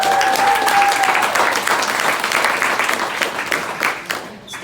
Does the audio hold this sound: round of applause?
yes